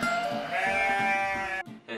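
A baby goat bleats in a petting-zoo pen: one long, wavering, nasal cry, close and loud, ending abruptly with a brief short follow-up.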